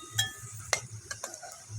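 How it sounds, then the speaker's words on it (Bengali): Fried, reddish-browned potatoes are lifted from a pan of oil with a metal utensil, making a few faint scattered clinks and scrapes over a soft background sizzle. "আমার আলুটা ভাজা হয়ে গেছে, লাল লাল করে এবার তুলে নিচ্ছি।"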